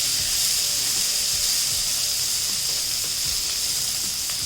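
Masala and onion frying in a pan for a prawn fry, a steady close sizzle with bright hissing that holds evenly throughout, with no voices.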